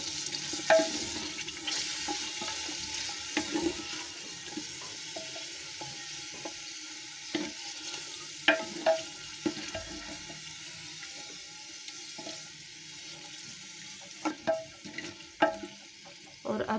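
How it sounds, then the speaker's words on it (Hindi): Mutton pieces for arvi gosht being fried and stirred in a pot, a low steady sizzle with scattered clinks and scrapes of a spoon against metal, fairly quiet and without talk. "गोश्त को अच्छी तरह से भूनेंगे"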